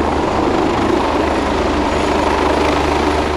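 A gendarmerie helicopter flies nearby during an elite-unit counterterrorism training exercise, its steady loud rotor and engine roar filling the whole stretch without a break.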